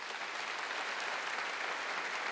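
A church congregation at a Catholic mass applauds with quiet, distant, steady clapping that blends into an even hiss for a couple of seconds.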